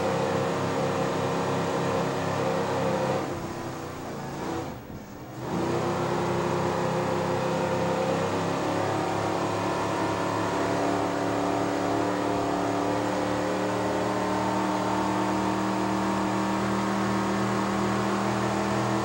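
Offshore racing powerboats roar at the St. Clair River Classic 2007, a loud sustained engine drone that dips briefly and then surges back, steady and heavy for the rest of the stretch, with no talking.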